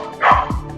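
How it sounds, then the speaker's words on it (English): A pet dog barks indoors, likely at passing aeroplanes and fire engines: a quick pair of short, close yips in under a second, loud and alone. "Can you hear the dog barking?"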